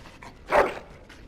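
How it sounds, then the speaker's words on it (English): A dog in the Dragon Age: Origins video game gives a single short, loud bark or yelp in the middle of an otherwise quiet moment, with fainter whimpering sounds around it. "Bloody dog."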